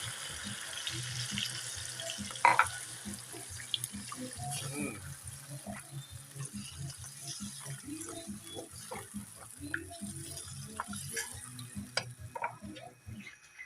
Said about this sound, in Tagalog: Tapos, lagyan natin ng isang basong tubig.